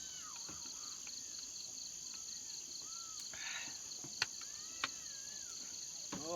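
Cicadas call at dusk near a field hut by an upland rice plot, a steady high, shrill drone held throughout, with faint bird chirps and a couple of sharp clicks.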